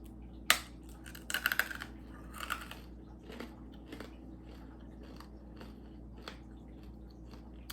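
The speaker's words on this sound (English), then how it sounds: "That was really difficult to bite." Someone bites into a hard Civil War hardtack cracker: a sharp crack, a quick cluster of crunches, then quieter scattered chewing crunches up close, with no talking.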